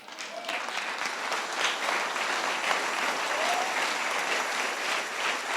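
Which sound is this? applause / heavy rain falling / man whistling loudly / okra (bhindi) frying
applause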